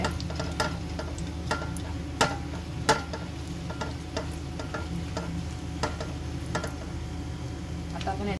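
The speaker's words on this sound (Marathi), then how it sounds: "आता आपण याच्यामध्ये सर्व ड्रायफ्रूट्स घालून घेऊया आणि तुपाबरोबर थोडं खमंग भाजून घेऊया" Dry fruits roast in hot ghee for coconut rice (narali bhat), a steady low sizzle broken by sharp clicks and taps of a spoon stirring the pan, close and moderately quiet, with no voices.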